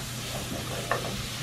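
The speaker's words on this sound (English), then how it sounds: "Yeah, the sizzle though." Potatoes sizzling as they fry in a pan, a steady close hiss throughout with one brief brighter crackle near the end.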